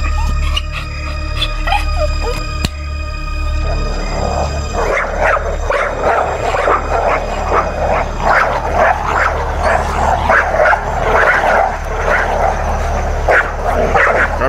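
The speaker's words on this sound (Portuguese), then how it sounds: "Cachorro do neném vai matar o de Maria" Several dogs bark, yip and snarl in a scuffle over a bone, the repeated sharp barks loud and close, with a steady low hum beneath and no talk over them.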